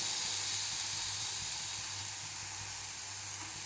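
Ingredients with tamarind sautéing in a pan give off a steady, even hiss of sizzling and steam that holds without a break, with no voices.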